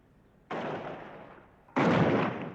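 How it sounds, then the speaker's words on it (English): Gunfire on a Belfast street in the Falls Road area during a summer-evening clash between stone-throwing youths and army troops: two sudden, loud, sharp-edged bursts, each sustained for over a second before fading. "The army moved in with vehicles, and the shooting then began."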